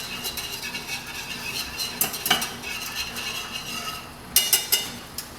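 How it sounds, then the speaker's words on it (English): Orecchiette pasta ingredients are whisked steadily in a bowl: a continuous scraping and clinking of the whisk, with a few sharper metallic clinks near the end and no voices. "So we can just keep whisking this"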